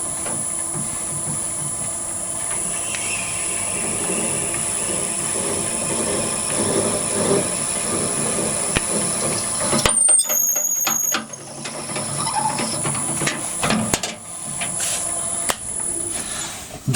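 A lathe drills a 6mm hole at about 700 rpm, giving a steady whirring, grinding drone with a high whine, briefly broken by a quiet pause before the cutting noise resumes.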